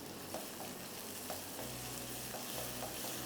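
Onions sizzling in a pan, a dense, steady frying hiss with faint stirring scrapes, close and continuous with no voices.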